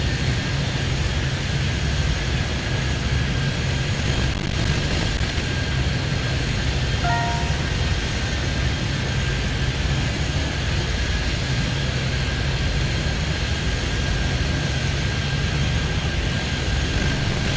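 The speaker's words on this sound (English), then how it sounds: "Steel flight 117 cleared immediate takeoff." A jet aircraft taking off in Airport Madness, a steady loud engine roar that holds unbroken throughout, broad and even with no other distinct sounds.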